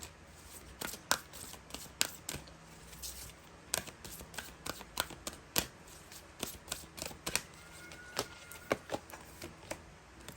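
Tarot cards shuffled and flicked by hand, a steady run of crisp papery riffles and snaps at close range, with no talking.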